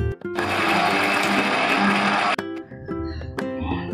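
A kitchen mixer grinder whirs loudly at high speed, grinding roasted lentils for curry leaf chutney in one steady burst of about two seconds, then stops, followed by faint clinks and handling sounds.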